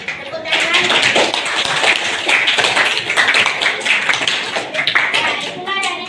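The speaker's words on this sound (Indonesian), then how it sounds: "Ya, tepuk tangan." A classroom group claps together after a lesson presentation, the close, loud clapping running busily and steadily for about six seconds with individual hand strikes standing out in the mix.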